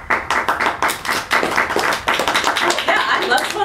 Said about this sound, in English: I love spontaneous clapping.